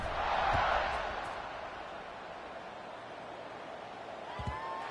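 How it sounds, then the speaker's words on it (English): Football stadium crowd in a UCLA college football video game swells into a loud cheer at the start, then settles to a steady distant murmur as a kickoff unit takes the field, with a commentator speaking briefly. "this crowd is feeling themselves after that last drive"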